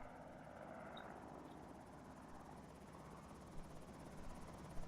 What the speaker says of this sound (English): It seriously is the helicopter again.